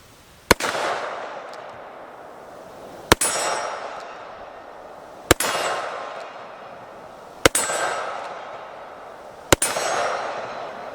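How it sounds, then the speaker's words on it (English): Five 44 Magnum revolver shots hit a steel gong outdoors, each a sharp crack followed by a long, bright metallic ring that fades slowly, evenly spaced about two seconds apart. "see if I can hit that gong"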